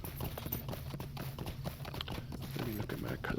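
Horse hooves clip-clop in a steady rhythm as a mount travels in the online game LOTRO, the hoofbeats sitting under a continuous layer of game sound and voice.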